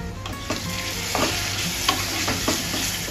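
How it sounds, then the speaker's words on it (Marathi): A ground paste of dry coconut, onion, garlic and coriander sautés in a pan with a dense, steady sizzle, while a spatula stirs it in repeated scraping strokes close by. "वाटण असं थोडंसं परतून घेतल्यावर"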